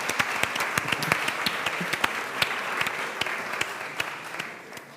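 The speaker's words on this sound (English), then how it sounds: "so please give them an applause." Audience applause at a European Green Party congress in Lisbon, many hands clapping in a steady, fairly distant patter with sharp individual claps standing out, heard with no talking.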